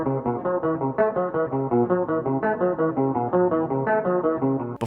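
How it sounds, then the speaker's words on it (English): A steady, looping background guitar part from the Current Joys song New Flesh, with a soft, effected tone and even, repeating plucked notes played throughout without any voices. "the first part is this background guitar"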